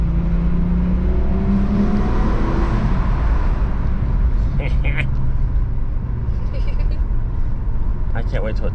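A 12-valve VR6 Volkswagen Jetta wagon with its check engine light on revs up in second gear, the engine note climbing steadily over a continuous road and engine rumble.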